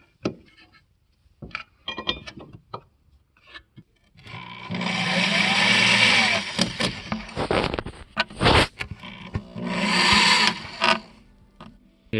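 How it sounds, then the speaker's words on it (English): Power drill boring a hole through the steel body of a 1979-2004 Foxbody Mustang while fitting a lower torque box reinforcement, with a few light clicks and taps, then two sustained loud whining bursts broken by brief pauses. "Or any side, and then start drilling."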